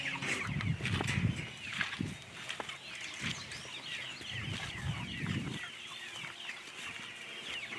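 Young meat bird chicks cluck and chirp in a homestead pen, a busy, continuous chorus of overlapping peeps and clucks at close range with scattered rustling, no talking.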